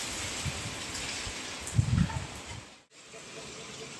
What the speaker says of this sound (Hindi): कितनी तेज बारिश आ रही है,